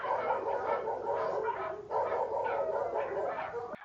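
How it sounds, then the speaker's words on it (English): Dogs bark in the background, picked up through an AirPods microphone, with repeated yips and bow-wow bursts at moderate loudness across a steady noisy bed. "This is what it sounds like on AirPods with barking dogs in the background."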